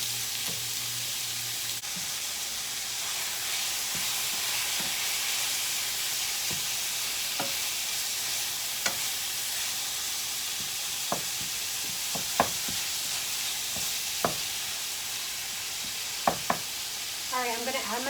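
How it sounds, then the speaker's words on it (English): Ground beef (80/20) sizzles and fries steadily in a pan, with a spatula occasionally scraping and clacking as it is stirred, all close up and with no talking. "I'm gonna go ahead and throw in the ground beef. I'm using 80-20 here, so I will have to render off some of that fat."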